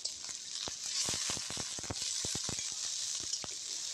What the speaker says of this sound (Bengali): কড়াইতে তেল দিয়ে দেব। তেলটা গরম হলে এখানে আমরা পেঁয়াজ মরিচ সব দিয়ে দেব